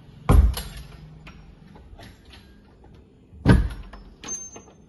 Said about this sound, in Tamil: இப்போ வந்து கதவை திறந்து பார்க்கலாம்.